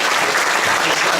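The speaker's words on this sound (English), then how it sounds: "Can we give them a big round of applause?" Applause rolls through the hall at an inter-school house cup awards presentation: a full, even burst of clapping from the audience with no one speaking over it.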